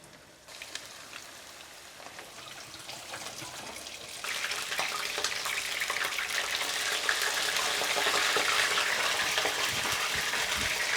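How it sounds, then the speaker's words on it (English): Chicken wings dusted in corn flour fry in hot oil on a stove, a dense steady sizzle that swells louder partway through and then holds, with no talking. "we can go ahead and head on over to the stove to fry. Our oil is nice and hot."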